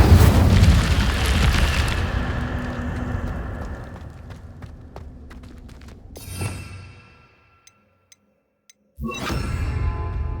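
An Incendio fire spell in the Hogwarts Legacy video game bursts out with a loud, roaring whoosh that fades over several seconds, followed by a brief near-silence and then a fresh burst.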